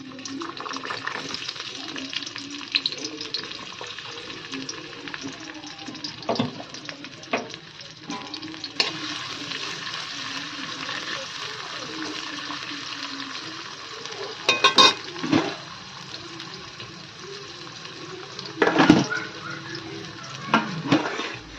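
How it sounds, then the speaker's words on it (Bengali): Capsicum and carrot frying in a pan for fried rice, a continuous close sizzle with irregular stirring scrapes and clatters, including a few louder knocks near the end. "ক্যাপসিকাম আর গাজর দুটোকে ভেজে নেব"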